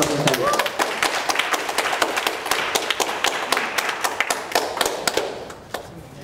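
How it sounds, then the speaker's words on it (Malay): Audience clapping at a poetry recitation competition, scattered sharp claps through the whole stretch with a few louder hits, fairly close, fading slightly toward the end. "Kita berikan tepukan sekali lagi untuk semua para peserta yang telah menyertai."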